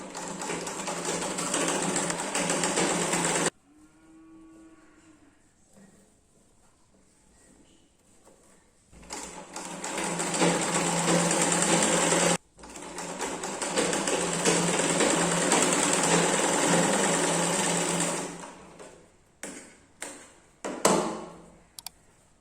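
Sewing machine stitching the side seam of a princess-cut blouse down to the hem, loud close runs of fast stitching separated by quiet pauses, ending in a few short stop-start bursts, with no voices.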